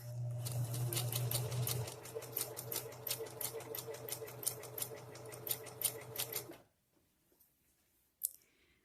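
A sewing machine stitches fabric for DIY shorts, its rapid needle clicks running steadily and close, with a low motor hum at first, before stopping abruptly and leaving near silence with a single late click.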